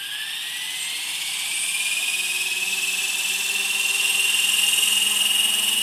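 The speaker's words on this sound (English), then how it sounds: "Watch the helicopter." A Lynx 450 helicopter flies nearby with a steady whining rotor and engine drone that grows gradually louder, with no talk over it.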